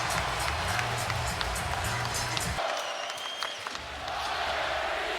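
Basketball fans in a Dallas arena cheer and applaud for Luka Doncic on his return after a trade, a dense, sustained crowd roar with clapping that briefly thins midway before swelling again.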